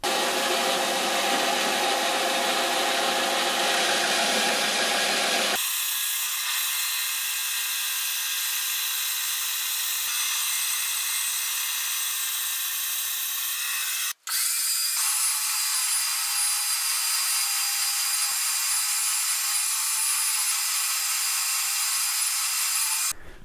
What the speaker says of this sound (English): get it to the bandsaw